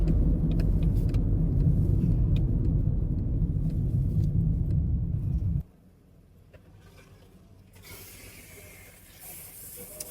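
A car on the road, heard from inside with a loud steady engine and road rumble for about five and a half seconds, then dropping to a quieter cabin hum.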